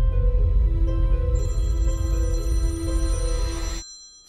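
A telephone rings on a film set, a loud electronic ringtone of layered tones that holds for a few seconds and then stops abruptly.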